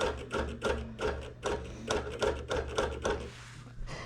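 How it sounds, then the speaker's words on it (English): A sewing machine quilting through a pinned quilt top, close rhythmic stitching bursts pulsing about twice a second over a low motor hum. "it's hard for me to pull my machine with the one hand"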